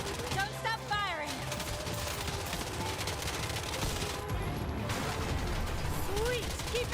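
Rapid video-game gunfire, dense bursts of automatic shots and explosive crashes running continuously and loud, with people talking briefly over the shooting.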